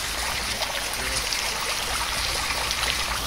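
Water poured onto plants in a VR Chat escape room game, a steady trickling, splashing rush that runs evenly and fairly close throughout, with no talk.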